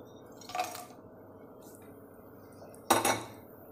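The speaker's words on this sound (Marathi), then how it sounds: "तापलेल्या तेलात हे सगळे खडे मसाले आपल्याला घालून घ्यायचे आहेत." Whole spices, cloves, cinnamon, star anise, cardamom and bay leaf, dropped into hot oil in a pan for a restaurant-style chicken masala curry, giving two short clattering, sizzling bursts over a quiet background with no talking.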